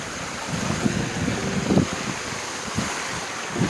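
Water at Amboli waterfall pours in a continuous broad rush, with wind buffeting the microphone and a few louder splashing bursts, no one talking.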